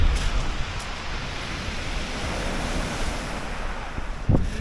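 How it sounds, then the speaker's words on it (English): Sea waves breaking on the shore at Brighton beach, a steady broadband wash of surf with wind buffeting the microphone, rising briefly into a louder surge near the end; no voices. "Check out these waves."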